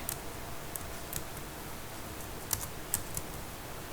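Typing on a computer keyboard while entering field options in Microsoft Access: soft, scattered key clicks at an uneven pace, quiet and close, with no voices.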